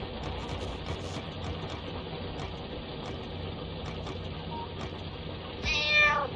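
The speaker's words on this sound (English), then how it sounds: "Meow." A cat meows in a short series of brief calls spread evenly over several seconds, against a low steady background hum, ending with a louder, longer meow.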